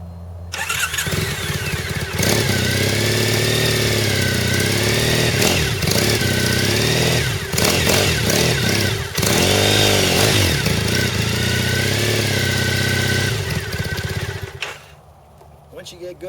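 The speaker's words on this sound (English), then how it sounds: "Now I'm going to start the bike up and demonstrate it for you. The exhaust is going to sound a little bit loud on camera" Motorcycle with a loud exhaust starts up close and settles into a steady idle around 1500 RPM, with a few blips in engine speed along the way before it cuts out near the end.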